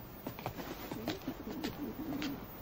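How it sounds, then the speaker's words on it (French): Caged pigeons cooing in soft, repeated low throaty calls, close and clear over faint background noise with no talking. "Une cage pour mes pigeons."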